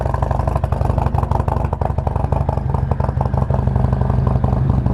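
A Harley-Davidson Milwaukee-Eight 114 V-twin idles on a cold start at a fast, steady high idle, a loud, close, continuous lumpy rumble with no talk over it.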